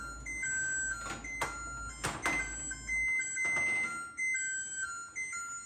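A kitchen timer goes off while ginger cookies bake, giving a few electronic beeps over moderate background clatter and kitchen noise, with no talk over it.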